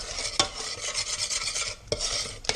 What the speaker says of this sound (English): Make sure you keep stirring it occasionally so it's not sticking to the pan.